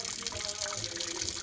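Buttermilk pouring out of freshly churned butter into a container, a steady close liquid stream splashing and trickling throughout with no talk.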